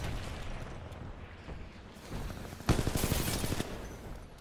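Assault rifle fire at a Titan in the video game Titanfall 2 opens with a low rumble, then breaks into a loud, rapid burst of automatic shots lasting about a second before it fades away.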